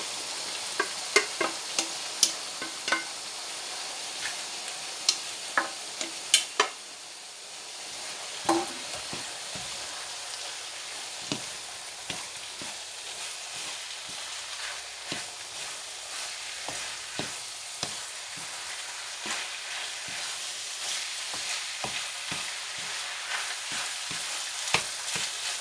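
Cooked rice and young onions are stir-fried in a pan, giving a soft continuous sizzle with scattered scraping knocks from the utensil, louder near the start and then settling into an even crackle with no voices.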